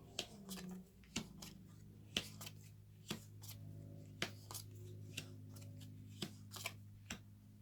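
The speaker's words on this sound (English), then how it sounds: "So we're going to put out our cards here now." Fortune-telling playing cards laid out one by one on a table, each giving a crisp snap or tap in an irregular rhythm, close and quiet over a low steady hum.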